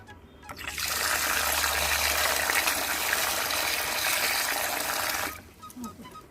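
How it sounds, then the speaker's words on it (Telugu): Water runs in a steady, loud stream for about five seconds as vadiyalu ingredients are rinsed, then stops, leaving a quieter room. "ఇప్పుడు వీటిని వీలైనన్ని సార్లు అంటే ఒక నాలుగైదు సార్లనే బాగా కడగాలి"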